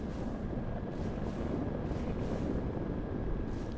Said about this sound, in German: und hier unten ist auch noch Wind.